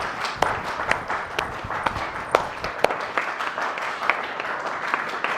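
Hand clapping in a Hindi courtroom comedy scene, a loose run of sharp, close claps with irregular spacing, over a busy background murmur.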